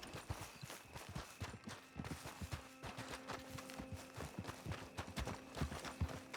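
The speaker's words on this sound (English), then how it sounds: "Oh, that's a horse." Horse hooves clip-clop steadily in Red Dead Redemption, a continuous rhythmic trot at moderate volume layered with game ambience.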